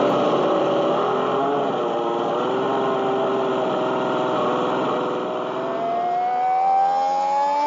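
A McLaren GT toy race car, a 1/64-scale Hot Wheels model, makes a steady buzzing engine drone on a qualifying run, its pitch wavering and then climbing near the end, loud and close throughout with no talk over it.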